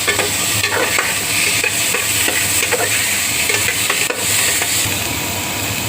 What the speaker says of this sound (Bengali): আমি কেটে একটা আলুগুলো দিয়ে দিচ্ছি, ডুমো ডুমো করে কেটে রেখেছি। একটু পেঁয়াজের সাথে ভালো করে মিক্স করে নেব।